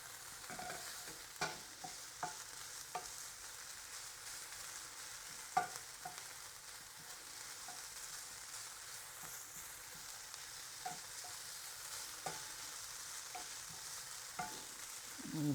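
Bacon sizzles in a pan with a little olive oil: a steady, quiet frying hiss with occasional soft pops and spatters, no voices.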